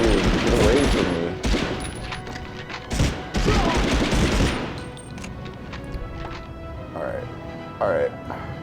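Gunfire in the Medal of Honor video game, rapid loud shots and bursts early on that thin to scattered pops later, with someone talking throughout.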